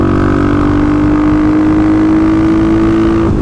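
A 35 hp Kawasaki KLX351 motorcycle with a bored head chugs at low RPM, a loud, close, steady engine drone with a faint whine running over it throughout.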